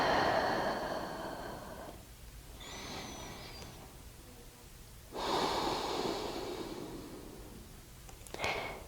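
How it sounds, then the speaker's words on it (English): Slow nasal breathing during a gentle yoga session: long soft airy exhales and inhales close to the mic, alternating with quieter pauses, ending in a brief sharper sniff. "Continue breathing in and out through the nose."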